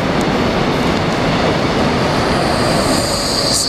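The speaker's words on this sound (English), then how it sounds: "This is for Zach to show the Korean train that you want to see." A Korail subway train in the Bucheon and Seoul area roars continuously from close by. Dense rumbling and wheel noise fill the whole clip, with faint high squeals near the end.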